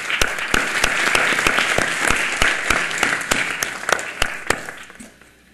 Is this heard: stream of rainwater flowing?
no